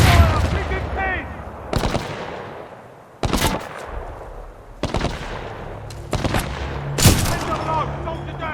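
Rapid automatic gunfire and sharp shots from the Titanfall 2 campaign burst loudly in repeated volleys, with several bursts spread across the battle. Soldiers' shouted voices mix in between the shots.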